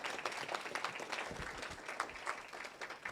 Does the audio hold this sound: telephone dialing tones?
no